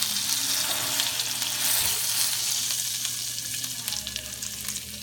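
A pot roast sizzles in a hot pan, a steady broadband frying hiss with soft crackles throughout, holding fairly even and close before easing slightly toward the end.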